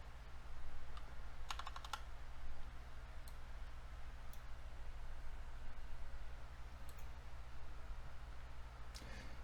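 Keys clatter on a computer keyboard as commands are typed, in brief bursts of quick clicks separated by pauses, faint over a steady low hum.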